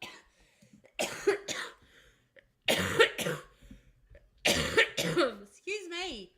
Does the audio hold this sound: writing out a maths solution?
no